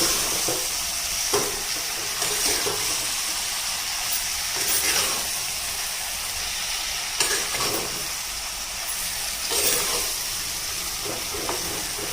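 Hyacinth beans, potatoes and brinjal sizzle steadily in roasted masala for handi undhiyu, a continuous close hiss broken by several sharp stirring scrapes at intervals.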